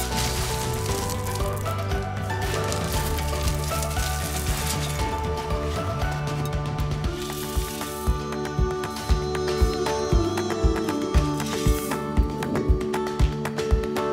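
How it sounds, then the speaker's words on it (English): Gravel scooped with a shovel from a driveway, a gritty crunching and clattering of stones with sharp taps that grow more distinct toward the end, heard over a steady layer of music. "I scoop gravel from the thicker parts of the driveway"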